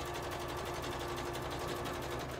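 A serger sews PUL fabric for transport bags, giving a brief, quiet, steady mechanical whir with a fast rhythmic stitching pulse and no voices.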